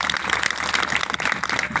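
Audience at a Marathi kirtan clapping hard for a children's bhajan group, a dense, loud, continuous burst of applause that holds steady throughout.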